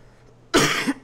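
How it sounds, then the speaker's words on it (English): One sharp, close cough from a podcast host with a slight cold, a brief harsh burst with a small second push at the end, after near silence. "now I have this little bit of a cough now"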